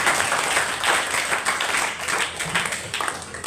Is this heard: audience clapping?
yes